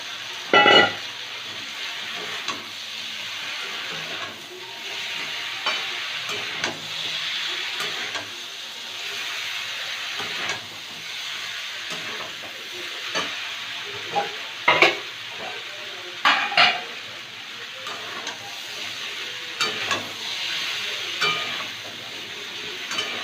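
Broccoli curry stirred and sautéed in a pan, a steady sizzle with scraping spoon strokes and occasional sharper clanks against the metal, continuing for a long stretch without voices.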